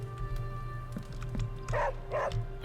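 Charlie the dog from Marvel's Midnight Suns gives a few short barks and yips in the game, spaced out over a steady hum of background music.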